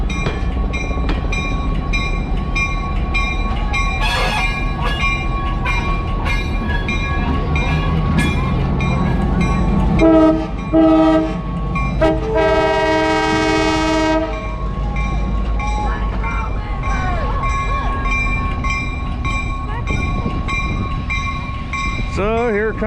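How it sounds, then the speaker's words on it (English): A diesel locomotive arriving at the Strasburg railroad in Pennsylvania rumbles steadily close by, then a loud horn sounds in several long blasts before the rolling noise carries on, with faint voices around. "Here comes the other engine that will be pulling this train back."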